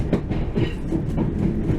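A Manchester Metrolink tram pulling away from Cornbrook stop, with a steady low rumble and rhythmic clicking wheel beats heard from on board, loud and continuous.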